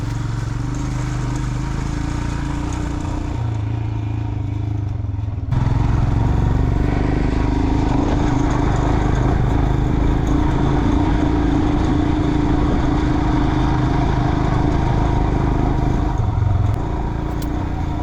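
A motorcycle rides along unsealed Himalayan mountain roads with sheer cliffs, its engine droning loudly and continuously, with a sudden rise in intensity midway as it accelerates amid wind rumble.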